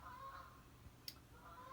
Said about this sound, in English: There's some loud ass geese out there flying.